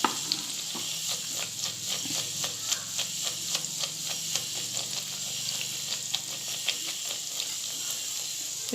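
Rose cookie batter frying in hot oil, a steady close sizzle with many small crackling pops and ticks at a fairly even rhythm, no voices over it.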